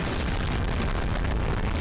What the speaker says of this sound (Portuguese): causando uma pequena explosão.